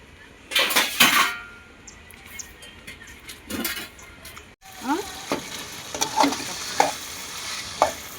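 Onions frying in a pan, sizzling steadily while a spoon scrapes and stirs against the metal with several sharp clinks, loud and close with a short break midway.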